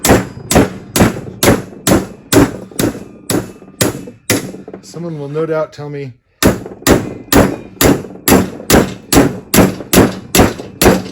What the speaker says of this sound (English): Got to use a big hammer.